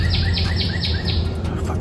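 A bird calls outside a garage with repeated short chirps over a low steady background hum, fairly close and clear, with no talk.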